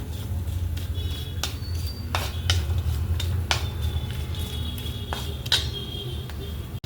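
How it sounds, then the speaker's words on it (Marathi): Grated coconut is stirred as it roasts in a pan, and a spoon scrapes and taps against the metal at irregular intervals. A low, steady hum of frying sits underneath, with no talking. "कंटिन्यू हलवत राहायचं आहे खोबऱ्याला"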